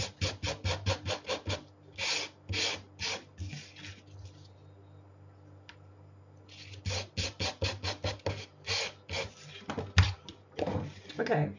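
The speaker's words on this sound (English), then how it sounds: "I'm just sanding very quickly. Using my sanding block." Quick, rhythmic rasping strokes of a sanding block on the edge of a paper mini scrapbook album, pausing briefly midway before the rapid back-and-forth rubbing resumes, close by.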